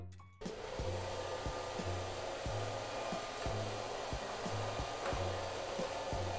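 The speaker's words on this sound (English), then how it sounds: "let's go ahead and try Roomba with rice" A Roomba robot vacuum runs continuously over spilled rice, its steady close motor whine carrying a regular pattern of soft knocks or pulses roughly every two-thirds of a second, with no talking.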